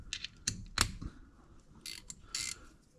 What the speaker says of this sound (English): We'll get our handy snap-on ratchet out, and we'll just give her some snugging